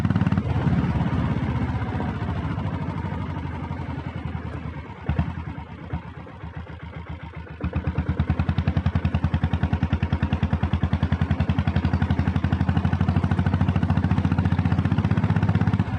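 A red Deluxe self-start diesel Bullet motorcycle rides at around 60, its engine a loud, continuous low thumping throb with a rapid even pulse. The pulse eases briefly midway, then surges back strong and steady.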